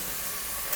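Ginger garlic paste hitting hot oil in a pan for rajma pulao, giving a steady, close, loud hiss throughout with no talk.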